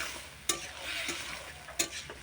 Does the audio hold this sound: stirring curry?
yes